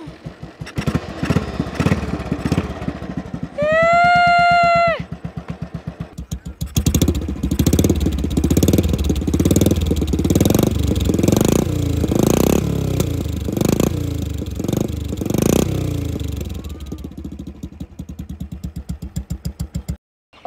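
A custom 37-year-old Royal Enfield Bullet motorcycle runs up close and loud, a steady thumping engine beat that rises and falls, broken briefly near the start by a high whine.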